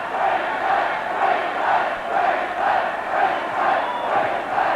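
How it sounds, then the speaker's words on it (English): A Queensland crowd at a rugby league match roars and cheers in broad, swelling waves, a dense wall of voices rising and falling rhythmically throughout, loud and distant-sounding with no individual speech standing out. "the Queensland crowd loving every minute of it"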